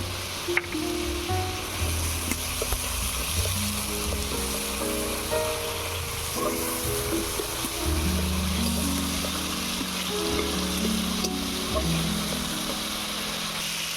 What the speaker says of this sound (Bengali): এবারে দিয়ে দেবো আদা বাটা, রসুন বাটা